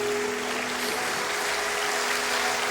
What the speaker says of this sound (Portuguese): Aplauda ao Senhor, aplauda ao Senhor.